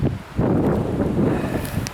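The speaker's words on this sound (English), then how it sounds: "oh, wind." Wind gusting across an off-grid homestead garden in late season, producing broad rushing buffets on the microphone with rustling, swelling after a brief lull and staying loud.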